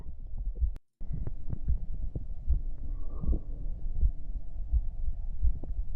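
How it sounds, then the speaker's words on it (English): A steady ASMR heartbeat thumps in a regular slow rhythm, close and muffled, repeating about once a second under a low hum with no talking. "People like the heartbeat part."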